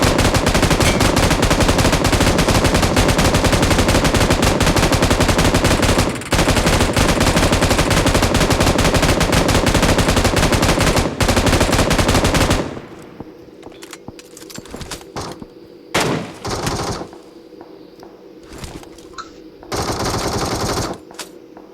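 Sustained automatic machine gun fire in the battle royale game PUBG, loud and dense for about twelve seconds, then breaking into scattered shorter bursts amid quieter game sounds.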